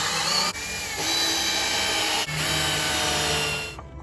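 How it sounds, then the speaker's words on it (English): A power drill runs continuously on wood while holes are bored and 3-inch screws driven for a kayak and canoe rack, a loud whirring drone with two brief pauses before it stops. "I'm going to drill holes and use 3-inch screws to go ahead and make sure that I've got a really nice tight connection there"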